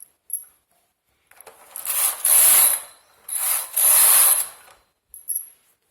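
A home knitting machine working a lace (jali) pattern: the carriage is pushed across twice in long rasping, clattering sweeps, with short clicks before and after, close and loud.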